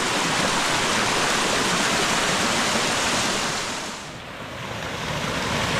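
Constant rush of a small waterfall flowing into a river at the source of the Riofrío, loud and close, a broad unbroken roar that dips briefly before swelling back.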